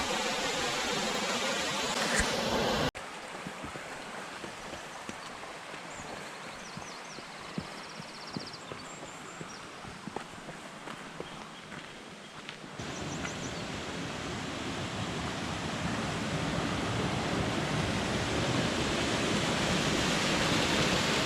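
A small waterfall and river beside a mountain trail in the Sperrin Mountains, County Tyrone, rush with a steady, dense wash of water noise, loud and close, with a few brief louder splashes in the middle stretch.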